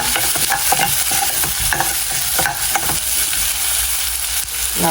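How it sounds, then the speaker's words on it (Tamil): Small shallots sautéing in hot oil for a soya meat curry give off a loud, continuous sizzle, broken by frequent stirring scrapes and clinks close by. "சின்ன வெங்காயம் போடுவோம் எல்லாத்தையும் போட்டு நல்லா வதக்க போகிறோம்"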